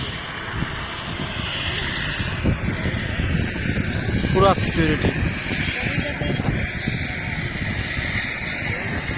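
A patrol helicopter circles over a large yajna gathering in Varanasi, its engine and rotor making a constant loud drone as someone talks over it.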